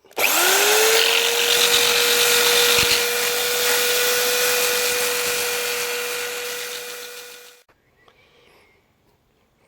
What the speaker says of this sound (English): Okay, so that's the area sanded down.